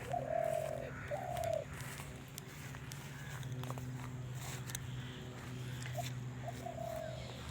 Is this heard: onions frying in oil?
no